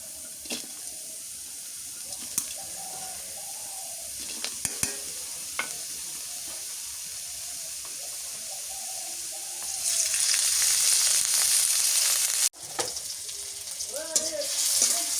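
Malabar spinach greens frying in a pan, with a soft sizzle and stirring clinks that swell into a louder hiss near the end, and a voice speaking briefly.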